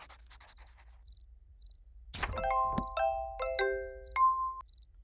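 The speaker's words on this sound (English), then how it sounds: "Silver bell. Oh no, silver star bell." A silver star bell chimes in the game Little Witch in the Woods: a soft rustle, then a bright cluster of clear ringing tones struck several times, each note sustaining and overlapping before fading, with faint small ticking sounds before it.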